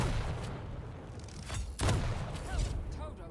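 Machine gun fire in a Quake match, rapid shots and weapon blasts amid busy game effects, with a heavier boom in the middle, heard under excited commentary.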